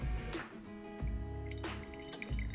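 The first drips of distillate run from a vodka still making high-proof spirit, falling as a few faint, soft plinks spaced roughly a second apart over a low steady hum.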